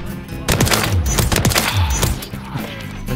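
Rapid automatic gunfire from Call of Duty: Modern Warfare 3 multiplayer, loud dense bursts of shots with sharp repeated cracks across the whole stretch, no talking over it.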